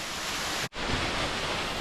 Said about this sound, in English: That's a little waterfalls there.